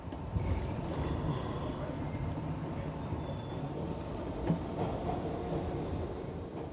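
A New York subway train rumbles steadily and loudly through the whole stretch, with constant low rail noise and a brief clank near the middle, while faint voices sit under the din.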